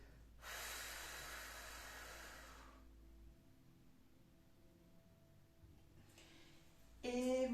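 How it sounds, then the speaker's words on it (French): Forceful exhalation during a nauli breathing exercise, a long broad breathy rush of air lasting a couple of seconds, followed later by quieter breath noise and a short, louder burst at the end. "Je souffle."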